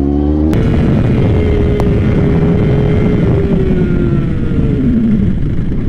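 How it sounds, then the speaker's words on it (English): Motorcycle lifting into a wheelie, a loud close engine roar held steady with a rising and falling tone, overloaded and continuous. "Coming over here to do a wheelie."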